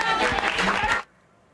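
Audience applause after a political speech, a dense sustained burst of clapping that cuts off abruptly after about a second.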